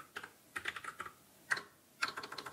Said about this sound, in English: I can't type strawberry to save my life